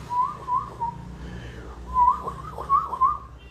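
A person whistles an imitation of a black koel's call, a series of clear rising notes in two groups of short repeated whistles, fairly close, with a low background hum and no talk.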